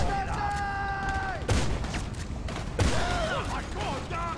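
Gunshots ring out in GTA 5 Online during a heist mission, two distinct sharp cracks about a second apart amid steady game sound and background noise, with players talking.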